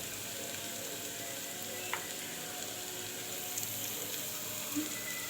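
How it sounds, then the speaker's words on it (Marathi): Onion, garlic and tomato sautéing in a pan, a steady close sizzle and crackle of frying throughout with an occasional faint clink of stirring, no voices. "मस्तपैकी कांदा लसूण टोमॅटो आपला परतलेला आहे"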